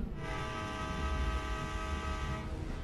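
A train in the Indonesian horror video game Stasiun Kalimedi sounds a long, loud, sustained horn over a deep rumble of rolling cars, the blast cutting off near the end.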